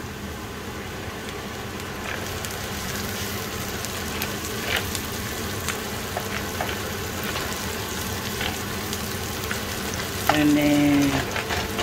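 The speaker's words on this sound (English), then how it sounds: "I'm gonna put my garlic in to fry it a little bit." Garlic frying in a pan alongside sausages, a steady close sizzle with occasional stirring scrapes and clicks, a brief spoken phrase near the end.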